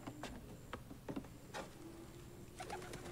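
A pigeon coos softly in a scene from the Shogun series, with a few low, throaty calls between faint flutters and patters over quiet room ambience, all at low volume.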